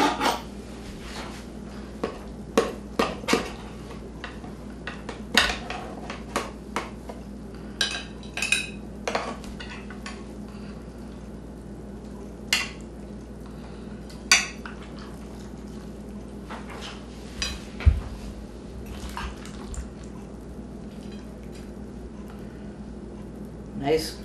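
Pasta, shredded carrots and meatloaf being served, with scattered clinks of dishes and cutlery and scraping spoons, moderately near, heard alongside talking.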